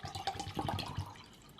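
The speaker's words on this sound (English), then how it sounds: "We're gonna fill it up, the beaker, with water" Water poured from a container into a glass beaker, a steady close splashing trickle lasting a moment and then tailing off, with no voices.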